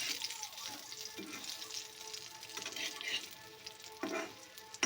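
Loitta fish paturi wrapped in bottle gourd leaves frying in a pan at home: a soft, steady sizzle with occasional stirring scrapes and a brief louder burst near the end, fairly quiet and close.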